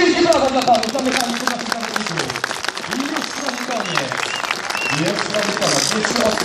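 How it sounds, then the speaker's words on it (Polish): Crowd applause at a speedway team presentation during a mechanics' contest, steady clapping filling the space while an announcer's voice carries over it throughout. "Wielkie brawa dla panów."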